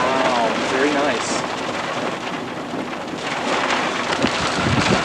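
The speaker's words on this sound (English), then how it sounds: "It's raining." Rain and gusting wind during a tornado chase in the Texas Panhandle, a steady loud wash with wind buffeting the microphone throughout, while voices talk over it.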